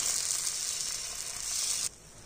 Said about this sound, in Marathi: तर आपण जे बेसन पिठाचं मिश्रण तयार करून घेतलं होतं ना ते ह्याच्यामध्ये आपण सोडून घेणार आहोत